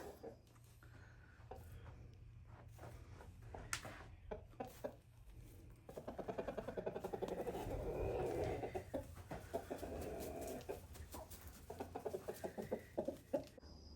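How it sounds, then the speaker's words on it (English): A small backyard flock of hens clucks in soft, repeated bursts that swell and fade, fairly quiet and with no one talking. "The chicken family."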